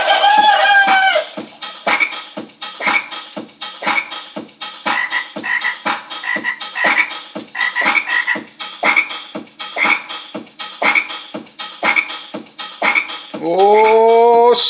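Chickens cluck and call in a rapid, continuous pulsing chorus alongside loud rhythmic croaking, and a rooster crows at the start and again near the end, close and loud throughout.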